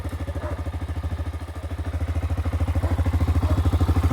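A motorcycle engine with a straight-through exhaust runs with a loud, rapid, pulsing exhaust thump, close up, steadily rising slightly in intensity with no talking.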